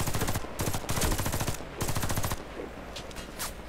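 Automatic gunfire in the video game Warface, a PC shooter, rattles in repeated loud bursts with brief gaps, followed by fainter shots toward the end.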